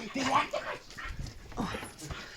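A nearby dog gives several short yipping barks mixed with whimpers, uneven and excited, with bits of background noise between.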